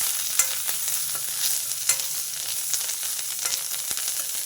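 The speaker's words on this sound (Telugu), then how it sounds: "ఈ ధనియాలు మెంతులు వేగిపోయినాయండి" Coriander seeds, fenugreek, red chillies and curry leaves fry in a pan with a steady close sizzle, while a spoon stirs and scrapes with occasional clicks. No one talks.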